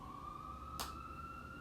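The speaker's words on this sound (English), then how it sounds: "Oh, sirens." A siren goes by in the distance as a faint, steady, high wail under quiet room tone, with a single sharp click midway.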